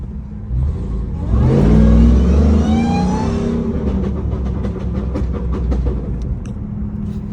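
A 900 hp TRX pickup truck engine roars as it revs and accelerates hard, the loud rising pitch sweeping up through gear changes before settling into a steady, close drone.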